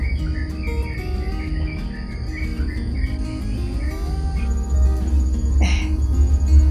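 Birds chirp and call in a garden in the morning, a mix of varied songs over a steady insect-like trill and a low background rumble, with no one speaking.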